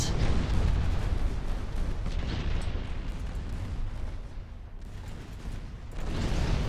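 Naval gunfire aimed at a heavy ship in the naval strategy game Ultimate Admiral Dreadnoughts, heard as a dense, continuous roar of booming cannon fire with rumbling low end that briefly eases before swelling loud again.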